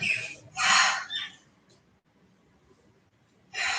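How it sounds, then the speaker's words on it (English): An Indian myna calls from a garden under a lemon tree, with short, bright squawks near the start and again at the end, separated by a quiet stretch. "Hear the bird. It's not a native, it's the Indian myna, but still, so lovely to hear the sound of them."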